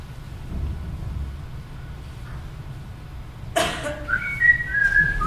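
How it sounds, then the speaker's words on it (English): Innocent-sounding whistling, a few short melodic phrases that start suddenly after a low, quiet rumbling background and carry on to the end, fairly close and clear. "Did you hear that? Innocent whistling?"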